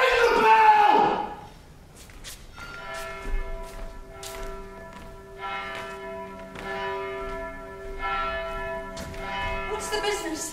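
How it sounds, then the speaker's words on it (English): A large alarm bell tolls repeatedly during a stage performance of Macbeth, deep ringing strikes with long sustained hum between them, following a shouted voice at the start. "Ring the bell!"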